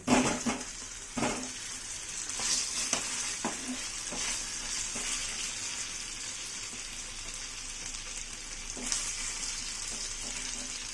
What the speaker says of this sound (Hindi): अब मैं इसमें अरवियों को फ्राई कर लूँगी।